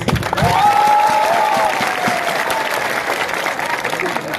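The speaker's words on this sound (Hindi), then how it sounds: "सब बुरुई बोतल के लिए एक ताली मारो तो प्लीज" A crowd at a political gathering applauds loudly and steadily. The clapping is dense and near, a sustained wash of many hands, and a brief tonal voice-like sound rises above it early on.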